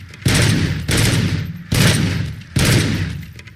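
Gunfire from the RoboCop: Rogue City video game, four loud bursts of sustained automatic shooting, each kicking in sharply and running close to a second before cutting off.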